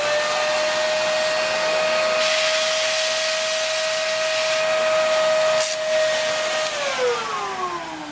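A made-in-America all-purpose vacuum cleaner running with its hose attachment, a steady loud whine over airy rushing that holds level and then winds down in pitch near the end.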